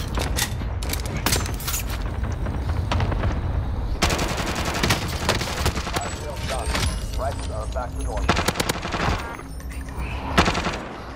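Automatic assault rifle fire in a video game crackles in repeated bursts with mechanical clanks between them, sustained and close, while people talk over the shooting.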